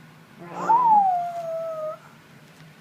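A young child imitates a bear's roar with a single drawn-out, wavering vocal cry that rises then slowly falls, lasting over a second, close and fairly loud in a quiet room.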